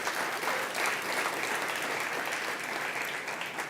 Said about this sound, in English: So give Amy and Envision Charlotte a round of applause.